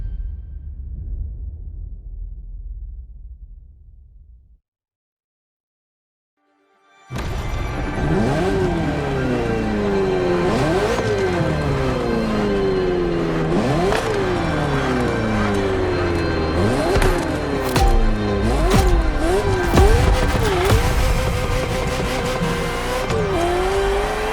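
A Ferrari F40 supercar in the racing game The Crew Motorfest revs hard after a short silence, its engine note rising and falling in repeated loud sweeps as it accelerates and shifts, with faint tire noise underneath.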